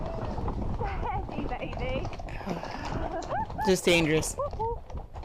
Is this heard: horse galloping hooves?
yes